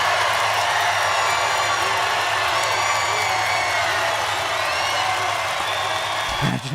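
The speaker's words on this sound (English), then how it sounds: "Imagine cheering for that." Large political rally crowd in Georgia cheering and whooping steadily throughout, a dense roar of many voices with scattered shouts, fairly loud and continuous.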